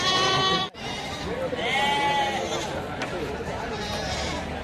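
Local goats bleat a few times at an outdoor animal market over a steady background of voices and outdoor noise, with one short high bleat in the middle.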